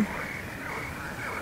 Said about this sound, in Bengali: সোনা ব্যাঙ?